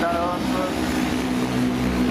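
Racing motorcycles pass through a chicane in a race, making a continuous loud engine drone with shifting pitch that fills the whole moment, and no clear speech over it.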